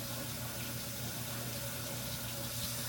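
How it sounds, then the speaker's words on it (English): Hot water runs from a kitchen tap in a steady, even stream, a soft continuous splashing rush at moderate distance with no voices over it. "Turn on the hot water."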